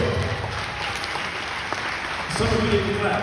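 An audience at a school professional development talk claps for a speaker with several books and a PhD, a moderate round of applause with a voice talking over it, swelling slightly toward the end.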